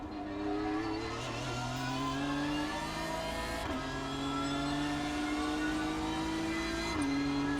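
BMW M4 GT3 race car engine in the iRacing sim, held at a steady drone with a couple of brief lifts and gear changes, loud and continuous with no talking.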